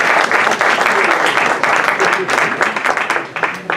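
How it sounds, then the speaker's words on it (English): An audience at a community fundraiser for fire victims claps loudly and close by, with voices talking and calling out over the clapping throughout. "Please clap."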